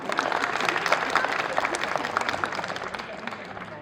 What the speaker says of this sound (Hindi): तो एक बार खूबसूरत माँ और खूबसूरत बच्चे के लिए तालियां बजाइए।